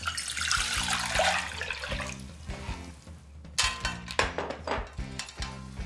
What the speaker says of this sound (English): we're going to pour 700 ml of water into the pan